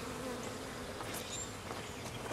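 Honeybees clustered around a feeder can in a hive package, a dense close buzzing hum with individual bees droning past, no talk.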